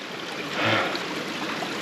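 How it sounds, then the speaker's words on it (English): Water running down a flooded hill path on Kinder Scout in near-freezing conditions, a steady close rushing trickle with a slight swell partway through and no talk. "The path's turned into a river."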